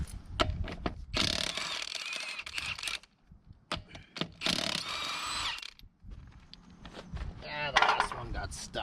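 Lug nuts, 15/16 size, being loosened from the wheel of a 2005 Dodge Ram 3500 during axle shaft U-joint work: bursts of ratcheting and tool clatter in several rounds separated by short pauses, close and fairly loud, with some talk mixed in.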